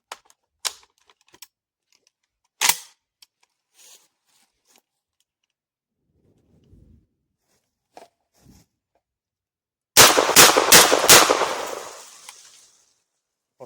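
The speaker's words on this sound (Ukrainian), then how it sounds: "Теж виконую серію пострілів." A lone sharp crack and scattered faint clicks, then a rapid volley of three or four loud shots from a Safari HG-105 shotgun with 70 mm, 36 g shells, fired close together, their echo trailing off.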